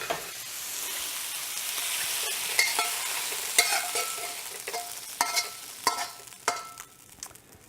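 Shrimp sizzle and fry in hot oil in a stir-fry pan, a steady close crackling hiss broken by sharper pops and stirring clatters toward the end, with no voices.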